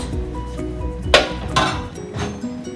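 A lid goes onto a pan of beef patties cooking in tomato sauce with peas, making a sharp metallic clink followed by a second softer clatter as it settles, close and clear.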